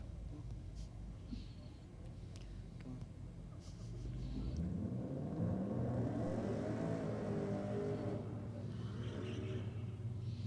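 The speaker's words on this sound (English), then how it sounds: "Two very distinctly different sounds, isn't it, between the Commodore and the V8 Commodore and the V8 Corvette." A V8 Holden Commodore and a V8 Corvette C8 launch and race away, a low idling rumble that swells into a rising, revving engine roar, heard at moderate distance.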